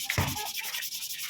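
Brief rough rubbing of sandpaper against a surface, a quick scratchy stroke followed by lighter scraping, close up.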